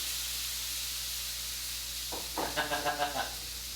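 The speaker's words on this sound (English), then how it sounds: "now this is just steam, Nikki." A steady broadband hiss of steam from a hot griddle runs throughout, joined near the end by a brief burst of sharper sizzling with quick pulsing crackles.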